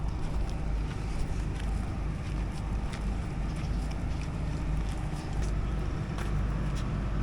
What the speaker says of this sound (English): You know, the engine 250 pk, 250 pk.